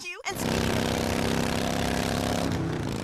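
A motorcycle engine roars loud and steady, with a commercial playing over it and speech half drowned beneath the engine noise.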